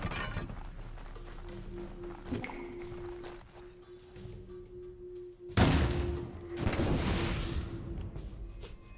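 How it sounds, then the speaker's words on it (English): An explosion in the video game Assassin's Creed III: Liberation erupts as a sudden loud burst partway through, followed by a rumbling, crackling tail over quieter in-game ambience and a steady tone. "It's such a pathetic explosion."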